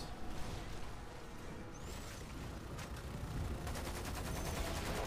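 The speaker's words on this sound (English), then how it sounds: "I'm just gonna start shooting you with the machine gun" Sustained machine gun fire in the video game Lost Planet 2, during a final boss fight on extreme difficulty, forms a dense, continuous rattle with no pauses, heard alone at steady loudness.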